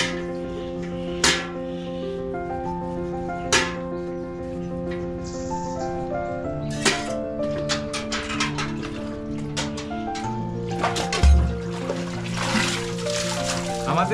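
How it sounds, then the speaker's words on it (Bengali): Water hauled from a village well with a bucket in a Santal village among tea gardens, soft splashes and trickles with occasional sharp clanks over a steady background, accompanied by a person talking. "এই আমি জল তুলবো।"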